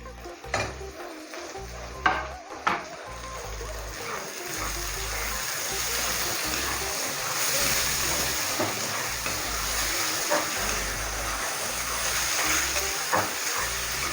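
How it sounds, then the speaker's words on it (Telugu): Chopped tomatoes and other ingredients fry in a pan with a continuous sizzle, punctuated by a few scraping stirs and knocks early on, moderately close with no speech. "సో ఈ అన్ని ఇంగ్రీడియంట్స్ బాగా ఫ్రై అవ్వాలి, టమాటోస్ కూడా బాగా ఉడికిపోవాలి"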